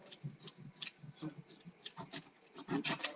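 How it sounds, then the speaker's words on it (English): Crayon rubbed on its side across paper laid over a textured plastic sheet, giving a quick, uneven scratchy rasping in repeated strokes, close and fairly quiet. "using the side of the crayon, not the point, we're going to use the side like that. We're going to rub all over"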